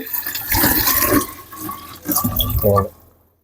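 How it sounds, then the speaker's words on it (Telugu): Water pours and splashes into a steam iron's tank for a few seconds, with a voice speaking underneath. "నేనైతే రెండు లీటర్లు పోస్తున్నాను"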